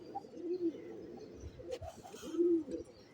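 Pigeons in breeding cages coo softly in low, rolling phrases, a few close calls rising and falling with brief gaps, quiet and without speech.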